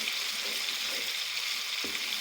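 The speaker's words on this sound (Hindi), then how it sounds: "तो अब मैंने सब्ज़ मिर्च डाल देती हूँ, डालते हैं और इनको अच्छी तरह भूनते हैं" Green chillies fry with ginger-garlic masala in a pan for dhaba-style kali masoor dal, giving a steady, close, bright sizzling hiss with a brief stir near the end and no talking.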